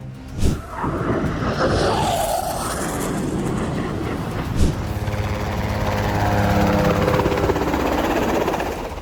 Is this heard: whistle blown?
no